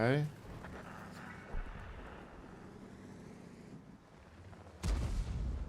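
A tank cannon fires in a tank video game, a loud boom at the start with another heavy shot near the end over rumbling engine noise.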